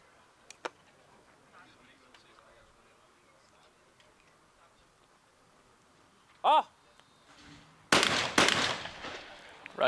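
A shotgun fires at skeet targets during a men's skeet final at the ISSF World Cup in Munich, with a sharp report near the end followed by rapid echoing bangs, preceded by quiet ambience and a faint tick.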